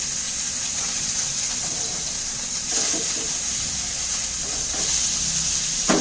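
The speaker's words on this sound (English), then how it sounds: "Now I'm just going to sear the outside edges." Meat sizzling in a hot pan as its outside edges are seared, a steady loud hiss of frying fat that runs unbroken throughout with no one speaking.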